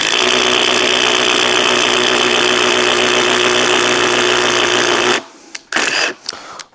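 A Milwaukee cordless power tool runs continuously at a steady, loud pitch while working at 25 mm, with a constant droning hum. It then cuts off abruptly into brief clatters and handling noises.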